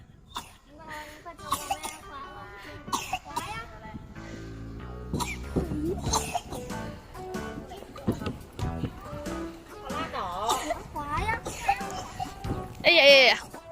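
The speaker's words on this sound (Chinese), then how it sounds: "咳嗽了是不是？" A young child coughs a few times amid playful outdoor chatter and children's voices, with adults talking nearby; a harsher cough-like burst comes near the end.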